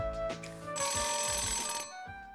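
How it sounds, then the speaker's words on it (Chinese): A telephone rings in the PS4 game Nights of Azure, a bright electronic trilling tone that holds steadily for about a second over a low background music bed. "怎么电话又响？"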